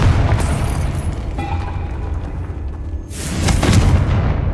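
A Confringo spell explodes in Hogwarts Legacy with a loud, rumbling boom and a crackling burst of debris. A second blast swells toward the end.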